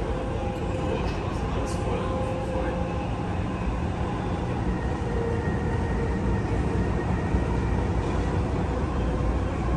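Steady low rumble of a Dubai metro train in motion, a continuous droning roar filling the whole stretch with faint murmurs of people underneath.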